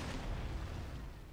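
A cannon artillery volley in Total War: Empire booms as a single heavy, sustained low rumble, loud and close with a long noisy tail.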